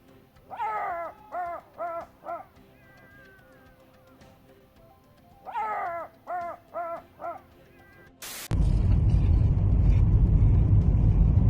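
Two bursts of short, yelping howl-like calls of a coyote or fox, several in quick succession each time, imitated by a voice, followed by a sudden loud burst of noise.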